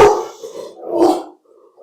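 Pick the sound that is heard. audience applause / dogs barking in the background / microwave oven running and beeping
dogs barking in the background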